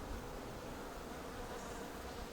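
A honeybee carrying pollen buzzes faintly at an urban hive in Ivry, a soft, continuous hum set against quiet background hiss.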